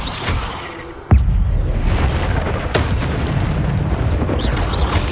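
An Incendio fire spell goes off in the video game Hogwarts Legacy, a sudden loud booming burst followed by a sustained roaring, whooshing rumble of flame and effects, with no talking.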